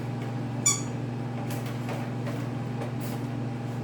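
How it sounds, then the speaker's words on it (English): A new puppy named Maya squeaking in a home kitchen, one brief high harmonic squeak early on, followed by faint higher chirps over a steady low hum. "So this video will come out with puppy sound like that"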